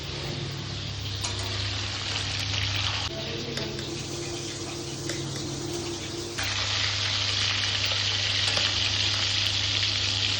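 A fish head frying in hot oil gives a steady, fairly loud sizzle and crackle that runs unbroken throughout, with no talking.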